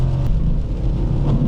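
A 2001 BMW X5 4.4i V8 SUV launching from a stop, a steady loud engine rumble building as it accelerates, heard from inside the cabin.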